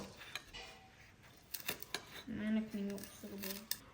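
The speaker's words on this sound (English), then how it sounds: "When chopping chives, we like to do it as small as possible." Several sharp knife chops through chives on a cutting board, irregular and close, with a voice faintly present in the background.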